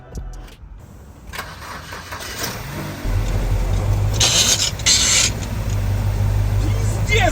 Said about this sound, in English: now, it was time to start the engine and hear how she runs